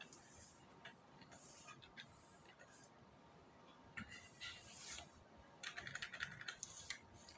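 Close clicking of a computer keyboard as a word is typed in short irregular bursts, light key taps and louder clusters toward the end, with someone talking quietly underneath.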